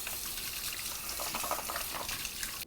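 Tap water runs in a steady, close rush while the dirty tank of an Aspiron wet-dry cordless vacuum is rinsed, ending with a brief clatter.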